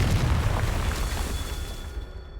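A fiery explosion spell bursting in the video game Hogwarts Legacy, heard as a loud, rumbling blast that stays dense and heavy before fading out toward the end.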